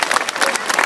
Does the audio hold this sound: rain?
no